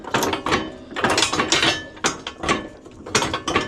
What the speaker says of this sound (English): This thing is really rattling.